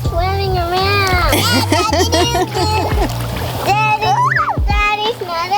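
Young girls splash and swim in a hot tub aboard a houseboat, with water sloshing and splattering close by under their excited chatter and high-pitched voices throughout.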